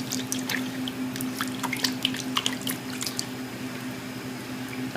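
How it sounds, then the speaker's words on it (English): Pounded taro is rubbed down in water to loosen remaining skin, giving faint close sloshing and dripping with small irregular splashes. "good rub down in the water and try to get any of the remaining skin that wants to fall off"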